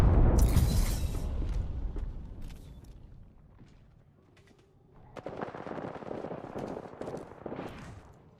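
Rapid bursts of automatic gunfire from a knuckle cluster weapon in a shooter video game, loud and dense at first, fading to a quieter lull, then resuming as steady crackling shots through the second half.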